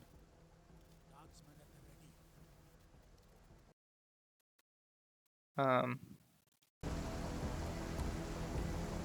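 Heavy rain in the video game Menace, a steady broadband wash of falling water that cuts out to near silence, then returns louder and denser after a brief burst of another game sound.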